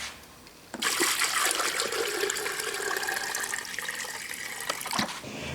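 Water is poured over a metal shear casting. It starts as a sudden splash, then runs as a steady rushing pour for several seconds before stopping, with no talk.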